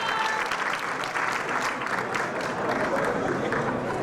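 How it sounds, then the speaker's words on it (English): An audience applauds a contestant at a 2003/2004 pageant-style event, with dense, steady clapping filling the room at an even level throughout. "A round of applause for our next contestant."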